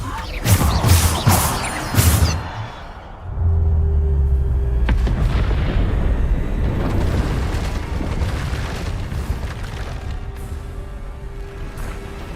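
Bombarda explosion spells and other spell effects in Hogwarts Legacy combat: a quick series of loud, close blasts and whooshing impacts in the first seconds, followed by a long, low rumbling roar that slowly fades.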